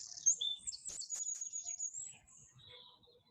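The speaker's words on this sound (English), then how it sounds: "I seem to be competing with birdsong here." Songbirds chirp and trill outdoors through a yoga class, a steady busy chorus of high, thin calls at moderate distance with no talking over them.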